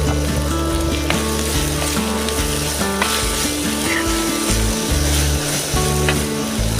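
Chopped tomatoes hit a hot pan and sizzle loudly and continuously, with background tonal hum and occasional scraping clicks running through the whole stretch.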